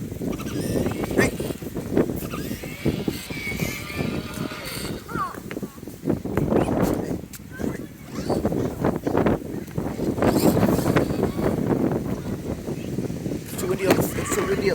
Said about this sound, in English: It's so windy up there.